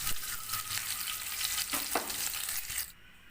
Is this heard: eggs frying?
yes